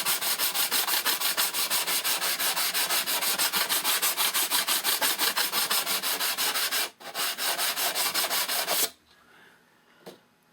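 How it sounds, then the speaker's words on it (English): Clear-doped wood on a control line trainer model plane is sanded by hand, a steady, loud, close rasping rub in fast even strokes that stops abruptly, leaving quiet room noise. "And you don't want to over sand it."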